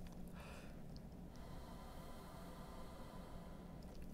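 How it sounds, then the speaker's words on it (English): Air hissing softly through the reed of a wind instrument as a beginner prepares for a first note: a faint, steady, breathy hiss lasting several seconds, with no talking. "You should be able to hear a little bit of a hiss coming through the reed."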